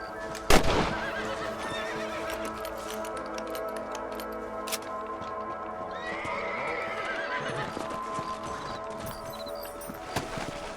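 Horses neighing and hooves clip-clopping over a steady game soundscape in Red Dead Redemption on PS3, with a sharp whinny near the start and occasional clatter.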